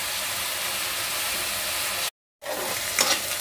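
Onion frying in a pan for a spicy Maharashtrian sandgyachi bhaji: a steady, dense sizzle continues for a couple of seconds, breaks off briefly, then resumes with a few crackles.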